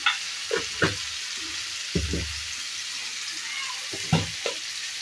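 Chili and coriander powder being stirred into a frying dry fish curry: a soft background sizzle punctuated by several distinct knocks and scrapes of a spoon against the pan, coming in uneven bursts.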